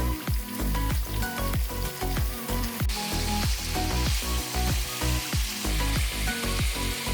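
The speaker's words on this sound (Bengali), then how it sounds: "দিয়ে দিচ্ছি গাজর আর দিলাম সজনে ডাঁটাগুলো। মোটামুটি 10-15 সেকেন্ড একটু নেড়ে নিলেই হবে।" Carrots and drumstick stems are stir-fried in a pan with a loud, dense sizzle and rapid, rhythmic scraping strokes throughout, up close.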